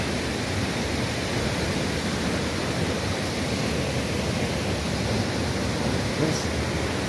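Tuasan Falls on Camiguin Island roars as a steady, dense wash of falling water, loud and close, unbroken throughout the clip.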